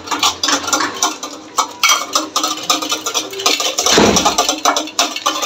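Pound cake batter being mixed with oil in a bowl, a utensil clinking and scraping against the bowl in quick, busy strokes, close and fairly loud.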